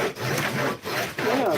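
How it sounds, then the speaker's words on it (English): A hand saw cuts through hedge branches with steady, long back-and-forth strokes, several rasping passes separated by brief pauses, close and fairly loud with no talking. "So I'm trying to do a long saws so that it'll cut faster, I guess."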